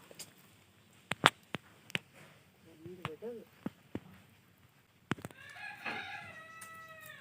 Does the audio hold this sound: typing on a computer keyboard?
no